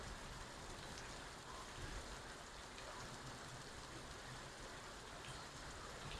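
Heavy rain pouring down in Mushtaq Colony, Kasur, a constant faint broadband hiss of falling water with no break across the stretch.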